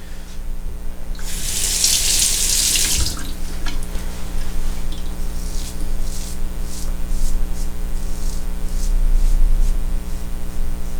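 Feather Japanese razor rinsed under a running bathroom tap, with a steady close rush of water and a brief brighter splash near the start.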